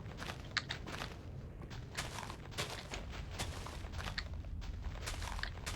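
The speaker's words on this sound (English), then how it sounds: "Let's start cutting down the tree before it catches on fire." Tree chopping in a modded Minecraft game, a run of quick, dull rhythmic hits that come in irregular bursts, close and moderately loud over a steady background hum.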